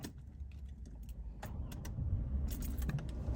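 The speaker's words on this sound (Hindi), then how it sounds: "सीट बेल्ट लगा के जो है वो हम गाड़ी जो है वो स्टार्ट अपनी करते हैं" A car, readied with the seat belt fastened during a driving road test, is started: keys jangle and click near the ignition, then a low engine rumble builds and settles into a steady idle inside the cabin.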